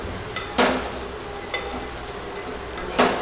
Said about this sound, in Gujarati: ઘીમાં તેને શેકી લઈએ આવી રીતે આપણે તેને હલાવતા રહીશું